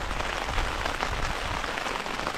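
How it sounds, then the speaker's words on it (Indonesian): Heavy rain pours down steadily outdoors on a fishing trip, a dense continuous hiss with no breaks, close and moderately loud. "Hujannya makin keras guys."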